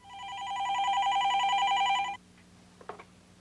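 An office telephone rings with a loud, steady electronic trill for about two seconds, then stops, leaving faint room noise and a small clatter, as on a 1980s workplace line.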